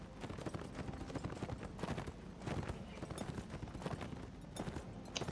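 Horse hooves clip-clop rapidly and continuously as a Rohan rider gallops in The Last Days of the Third Age game, a dense, fairly loud stream of hoofbeats with faint battle noise around.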